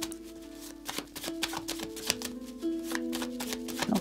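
A Belline tarot deck is shuffled by hand, giving quick, close riffling card flicks in short bursts against quiet background music.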